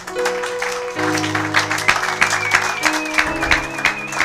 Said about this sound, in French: Acclamons pour la gloire de notre Dieu.